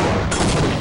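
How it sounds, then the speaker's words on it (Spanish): A loud, dense burst of gunfire in Half-Life, a short continuous blast of rapid shots heard up close. "Me están disparando"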